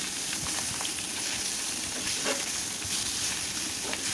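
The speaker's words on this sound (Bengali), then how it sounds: "এখন মাছগুলো ভেজে নেব।" Pieces of rohu fish fry in soybean oil in a pan, giving a steady, even sizzle and crackle that carries on without a break, close and moderately loud, with no talking.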